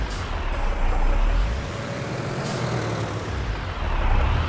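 Hydraulics on a small Ford tractor in Farming Simulator 22 let out sharp hissing bursts, one at the start and another midway, over a low, steady engine rumble.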